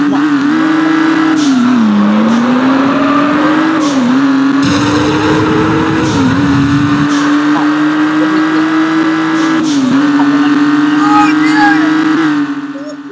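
Car engine in the mobile drag racing game Drag Racing Rivals, a loud, steady synthetic motor drone that rises and dips in pitch as it revs, with brief shifts and a rougher burst midway, continuous throughout.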